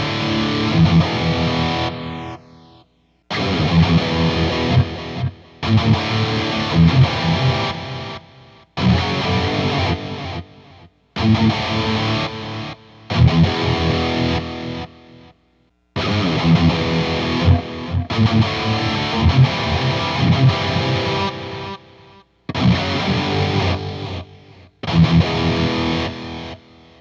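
Electric guitar playing through several delay pedal presets with chorus, a distorted, effects-heavy tone in repeated phrases broken by short silences between sections, loud and alone without talk.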